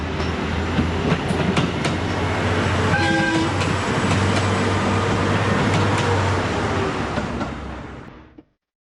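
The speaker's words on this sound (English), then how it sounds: "Right, let's get on the train." A train on the Sangu line in Japan rolls along with a steady rumble and rhythmic clatter heard from on board, a brief horn sounding midway, before the sound cuts off abruptly.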